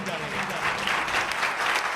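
A church congregation claps loudly during a Hindi sermon against witchcraft, dense continuous applause mixed with crowd voices.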